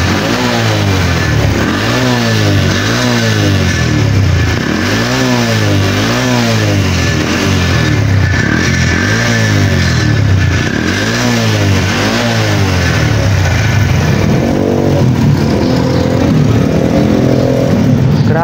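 A smoky, faulty motorcycle engine runs loudly and steadily, revving in repeated rising-and-falling surges, then settling into a rougher idle near the end.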